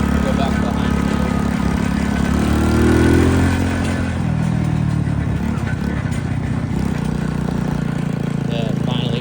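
Mini chopper motorcycle with a four-speed gearbox pulling hard in second gear, its engine note loud and close, rising through the revs before easing off, with continuous engine drone throughout.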